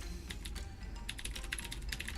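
Rapid typing on a computer keyboard during a game of Epistory, a steady stream of light, close key clicks with no voices.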